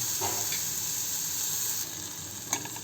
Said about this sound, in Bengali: এখানে দেখতে পাচ্ছেন পেঁয়াজটা অল্প ভাজা ভাজা হয়ে এসেছে